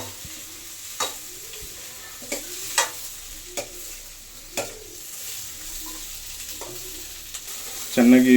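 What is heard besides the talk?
onions frying in a pan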